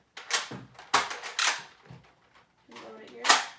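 A Nerf blaster being primed, giving a few sharp plastic clacks and slides in quick succession, close and loud, with pauses between.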